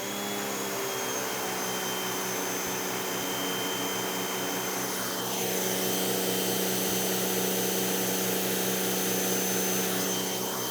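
A wall-mount pressure washer with a retractable hose reel sprays through a 3.0 25-degree nozzle, giving a constant loud motorized whine and hissing water jet with no break, slightly intensifying partway through.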